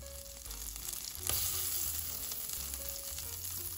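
A heaping tablespoon of margarine heats in a pan on the stove, giving a soft, steady sizzle that rises slightly partway through and then holds at a low, even hiss with light clinks.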